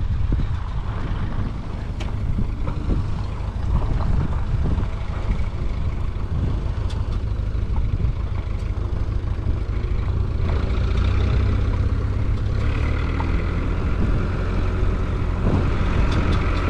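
A tractor engine drones steadily throughout, a low rumbling hum heard from inside with road noise and no speech, on a rural road near Salamis with sheep ahead.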